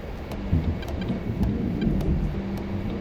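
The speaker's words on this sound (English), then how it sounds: "It's a big rolling thunder this time, but it's still rolling. It's really low and deep." Low, deep thunder rolls through a passing storm as a rumble that rises and falls, with faint rain in the background and no voices.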